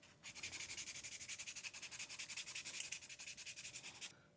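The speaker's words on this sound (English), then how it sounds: "that's what it looks like when it's sanded down nice and smooth" Fast back-and-forth sanding strokes rub over a hand-carved wooden hickory shad crankbait lure coated in UV resin, a steady rhythmic scratchy hiss lasting about four seconds, close but quiet with no voices.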